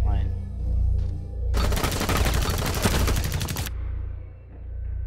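Hip-fired automatic gunfire in Rainbow Six Siege, a loud rapid burst lasting about two seconds, with game ambience and a voice murmuring around it.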